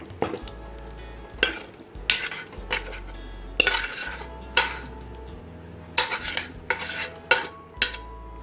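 Cooked jackfruit being moved into a curry pot, heard as repeated scraping and clinking of a metal spoon against the pot in uneven bursts, with a low steady hum running underneath.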